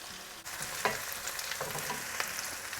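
Onions cooking lightly in a pan for a paneer egg jalfrezi, a soft continuous sizzle with a few faint scrapes and taps, fairly quiet.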